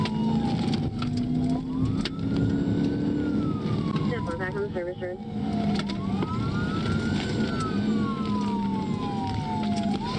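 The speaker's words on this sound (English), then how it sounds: "He's three cop cars chasing him." Several police car sirens wail and rise and fall during a chase of a motorcyclist, loud and near over road noise, with a brief yelping burst in the middle.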